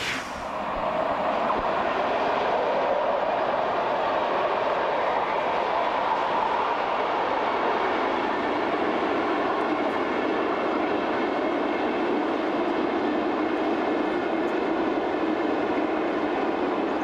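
A DB class 112.1 electric locomotive hauling an Intercity or Interregio train rolls past at steady speed, a loud, continuous rumble with rail noise holding level from start to finish.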